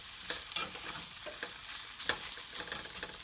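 Chicken cooking in a pan for bang bang chicken, with a steady sizzle broken by sharp scraping clicks of a utensil stirring and breaking up the meat, close and alone.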